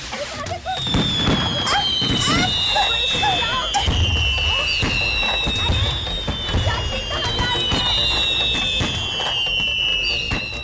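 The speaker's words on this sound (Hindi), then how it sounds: "अरे आग लग गई एक साथ पटाखे में।" Firecrackers crackle and bang repeatedly amid shrill whistling tones, a loud, chaotic burst of explosions.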